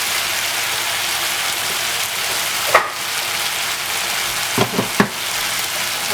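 Fried meat with soy sauce and added potatoes sizzling in a pan, a steady, close frying hiss like light rain, broken by a few soft knocks and stirring clatters toward the end.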